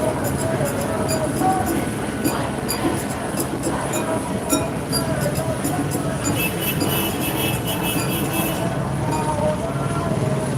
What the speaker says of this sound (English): Law enforcement helicopter circling overhead as the crowd moves eastbound on Melrose.